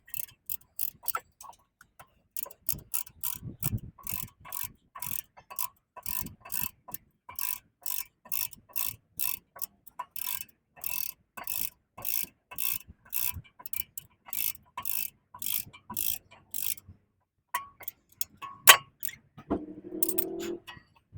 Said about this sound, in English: Now that we have compressed the piston all the way in